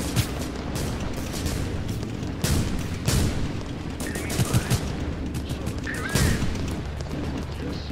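Dense, continuous gunfire and explosions from the video game Total Conflict Resistance, with repeated loud bursts over a constant battle roar throughout.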